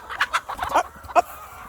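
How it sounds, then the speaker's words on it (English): Pastured laying hens clucking in short, close bursts from a large flock outdoors on a farm, with irregular loud clucks and brief pauses between them. "I am walking around here with my thousands of laying hens"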